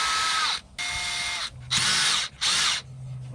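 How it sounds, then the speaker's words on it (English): Variable speed power drill boring a hole in fiberglass, a near, loud whine in four bursts of about half a second each, with short pauses between them and the pitch dropping as each burst slows. "So drilling a hole prior to almost the size keeps from blowing out your fiberglass"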